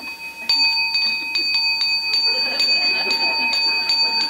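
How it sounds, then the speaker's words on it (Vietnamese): A small bell rings repeatedly in a monastery setting at an uneven pace with bright, sustained tones, heard over a quiet room murmur. "Bởi vì mình dặn hãy nghe chuông."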